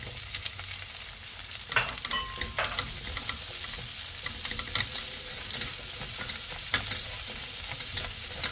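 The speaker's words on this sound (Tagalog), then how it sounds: "So, igisa lang natin ng maigi, pero wag hayaan na masunog ang bawang" Garlic and plenty of onions fry in a pan, a continuous loud sizzle with intermittent stirring scrapes and utensil clinks near the start, heard alone without talk.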